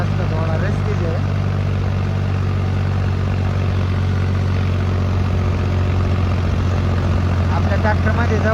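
A tractor engine drones steadily and loudly while hauling a 25–26 tonne load on a road at night, a constant unbroken rumble with someone talking over it.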